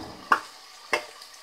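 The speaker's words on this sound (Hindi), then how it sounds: "और इसको करीब हम 2 से 3 मिनट भूनेंगे।" Black chickpea pulao with salt being sautéed in a pan, heard as two short, quiet scraping stirs about half a second apart over a faint background, with no talking.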